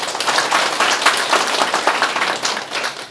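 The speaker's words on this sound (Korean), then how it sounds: "다시 한번 추모식을 준비해온 저희 추모위원들께 뜨거운 박수 부탁드립니다" A crowd at a Korean first-anniversary memorial ceremony applauds warmly for the memorial committee, with steady, dense clapping from many hands filling the room, no voices over it.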